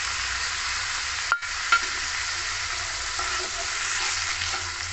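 Ground spice mix tipped into hot oil in a pan for a soybean dal, frying with a steady hiss, a short thump and a couple of stirring scrapes, close and unaccompanied by voices.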